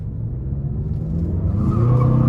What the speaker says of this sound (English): I'm gonna give some throttle coming out of this corner